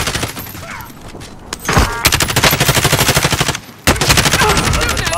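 Rapid machine-gun fire in a video game, loud close bursts of evenly spaced shots that run for over a second, stop, then resume, with faint speech underneath at the start.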